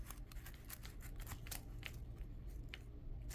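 Scissors snip through a plastic overhang in a quiet room, a series of short, crisp cuts spaced irregularly, close and fairly soft.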